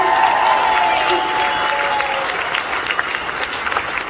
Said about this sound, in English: let's give her a applause